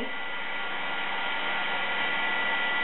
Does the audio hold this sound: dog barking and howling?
no